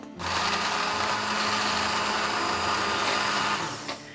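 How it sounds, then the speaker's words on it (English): A stick blender whirs steadily at close range for about four seconds, blending hot sauce, a loud continuous motor buzz that dips briefly near the end. "Now I'm going to blitz this with a stick blender."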